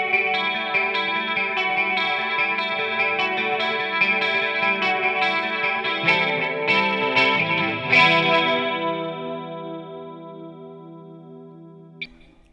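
Electric guitar run through a chorus pedal placed after a delay, sustained shimmering chords with a wide, swirling chorus wash and echoing repeats, played alone and ringing out before a final soft knock near the end.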